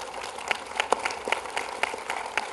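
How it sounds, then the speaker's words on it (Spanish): An audience claps for Belinda Galeano, a co-founder of the Campus, with light, scattered applause for a few seconds, no voices over it. "Un aplauso para Belinda Galeano"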